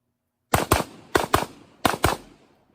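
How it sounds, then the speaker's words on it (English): AK rifle fired in the El Presidente drill: three bursts of paired sharp shots, six reports in all, loud and close with short echoing tails and brief gaps between the pairs. "Running the AK a little bit."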